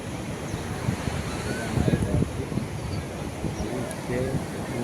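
Sea waves washing onto a busy beach on the Gujarat coast, a steady broad surf wash with wind rumble and some speech in the background.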